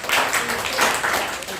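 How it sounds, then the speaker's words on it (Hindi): Classroom of primary school children clapping together, a continuous dense patter of many small hands filling the room at close range, without talk over it. "काव्य के लिए भी ताली बजाई भाई।"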